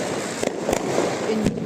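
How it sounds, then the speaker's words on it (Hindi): Several sharp Diwali firecracker bangs pop at irregular intervals over a steady background hiss, fairly close and loud. "छोटा वाला पटाखा से बहुत डर लगता है"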